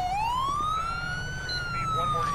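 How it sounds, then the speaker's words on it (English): PA-300 police siren on a 2019 Chevy Silverado sheriff's patrol truck in GTA 5 LSPDFR, a loud steady wail rising and holding across the whole stretch, with faint background sounds beneath. "In case you're wondering what siren this is the PA-300."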